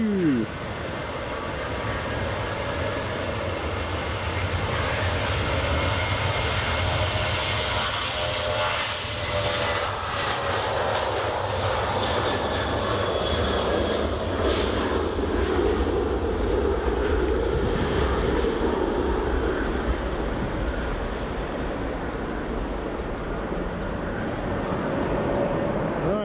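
A Jet2 airliner lands on runway 24 at Edinburgh Airport, its engine roar loud and steady throughout, with a broad sustained rumble that shifts slightly in pitch as it passes, heard alone without talk.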